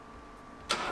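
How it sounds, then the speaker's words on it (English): A 1979 Opel Monza barn find with new HT leads cranks and catches at the end of a quiet stretch, a sudden loud broadband burst of starter and engine noise, close by. "So we're going to start the car up, really."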